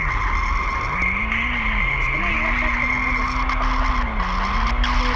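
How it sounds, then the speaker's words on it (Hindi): A car in a video game skids with a sustained tire squeal over a steady engine drone as it rams someone, loud and continuous throughout. "इसको ना गाड़ी से एक और बार ठोक देते हैं।"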